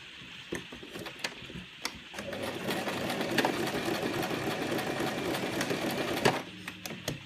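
A sewing machine stitches a sensory maze cuff, first in a few separate needle taps, then in a steady close whirring run of stitches that stops abruptly near the end.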